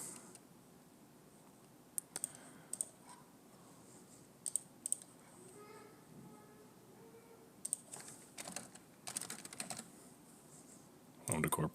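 Scattered bursts of clicking keystrokes on a computer keyboard, soft and close, with sparse taps early and denser runs of typing toward the end over quiet room tone.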